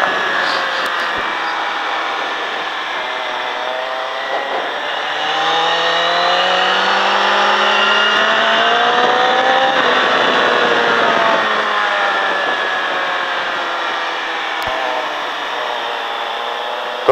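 A motorcycle on the race track at Mettet, its engine note climbing and falling as the rider opens the throttle, continuous and fairly close, with harmonic sweeps rising through the run.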